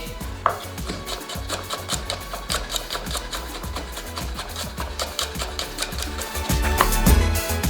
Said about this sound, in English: I'm just going to quickly finely chop it here.